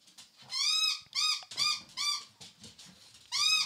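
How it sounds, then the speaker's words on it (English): A dog gives a series of high, squeaky, whining yelps, about seven bursts in an uneven rhythm, close and fairly loud, with no talking. "That was Remy. The other dog is Foy"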